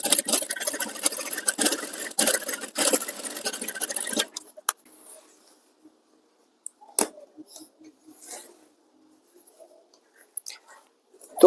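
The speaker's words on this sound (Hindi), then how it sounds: "हम यहाँ पर इस कॉर्नर पे भी सिलाई लगाएंगे" A sewing machine stitches along the corner of a shawl collar in a dense, rapid mechanical whir for about four seconds, then stops, leaving near-silence with a few faint clicks and handling noises.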